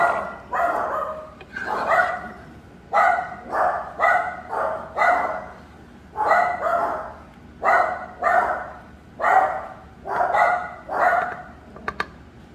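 Dogs barking indoors at a house, a steady run of loud paired and single barks in an even rhythm, repeated about a dozen times, close by with no talk.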